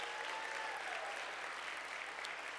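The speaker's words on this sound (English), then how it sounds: "I need you to give those folks applause for being the first in their family to go to college" Full audience applause for first-generation college students at a college class welcome, a steady, dense roar of clapping from a large crowd throughout the short stretch.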